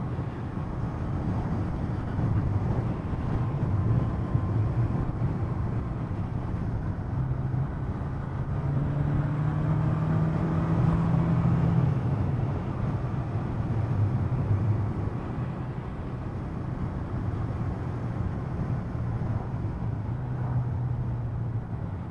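Steady engine drone of a Suzuki GS 1000 motorcycle pulling in sixth gear, continuous and fairly close with wind rush over it and a brief rising note midway, no talking.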